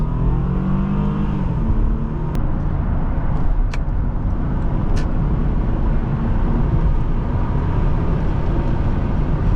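A 2003 Acura TL 3.2 car driving, its engine holding a loud, steady drone from inside the cabin with a brief rise in pitch early on, and no one talking.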